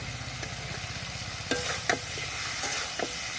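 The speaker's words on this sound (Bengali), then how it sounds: "আলু তেলের সঙ্গে একটু ভেজে নিচ্ছি এবার বাটা মশলা দিয়ে দেব" Potatoes fry in hot oil along with a ground paste of green chilli, dried chilli, cumin and ginger, giving a steady close sizzle. A few sharp spoon scrapes against the pan come through it, and no one speaks.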